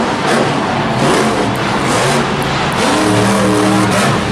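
The Pirate's Curse monster truck engine roars and revs loudly at a Monster Jam event in Anaheim, a continuous throaty rumble with rising throttle swells over a noisy stadium crowd.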